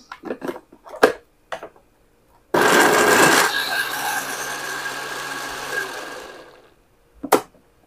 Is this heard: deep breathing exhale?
no